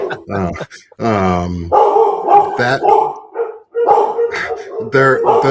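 Several dogs bark in the background of a conversation, with a sharp burst of barking early on and more barks surfacing under steady male speech.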